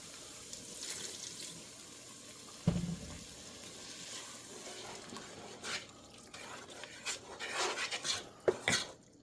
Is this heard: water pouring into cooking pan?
yes